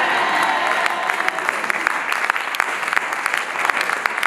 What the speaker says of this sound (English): you give the Lord a clap offering even as you accompany with amen